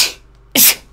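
A single loud, close sneeze bursts out about halfway through, sharp and breathy, after a faint hiss and stretch of quiet.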